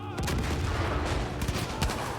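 Gunfire in the video game Far Cry 5: dense, rapid bursts of shots crack close and loud one after another, overlapping into a near-continuous barrage with a few sharper reports standing out.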